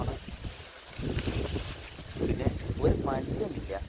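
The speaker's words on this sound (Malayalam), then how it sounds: "നല്ല കാറ്റ് നല്ല തണുപ്പുണ്ട് ഗംഭീരമായിട്ട് തണുപ്പുണ്ട് നല്ല കാറ്റ്" Gusty, cold wind at night buffets the microphone in low rumbling bursts while a person talks over it, the roar rising and falling.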